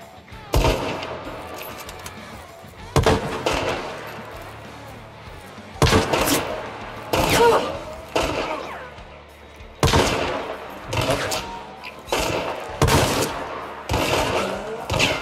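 Gunshots in the video game Hunt: Showdown: sharp, loud reports fire one at a time at irregular intervals, each followed by a short echoing decay, with a low murmur of game sound underneath and faint speech at times.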